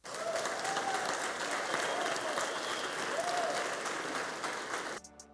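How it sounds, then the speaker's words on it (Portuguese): Steady applause from a church congregation at Paz Church Santarém, sustained dense clapping for about five seconds before cutting off abruptly, with faint voices mixed in. "Dá um aplauso para Jesus aí"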